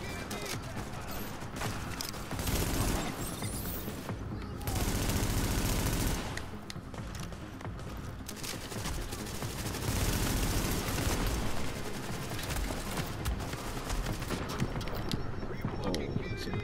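Rapid bursts of automatic gunfire and scattered shots fill a firefight in Tom Clancy's The Division at Madison Field Hospital. The shooting is loud and dense, runs almost continuously and swells in places.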